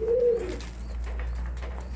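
Pigeons coo close by, one clear throaty coo at the start, then softer low cooing under a steady background hum.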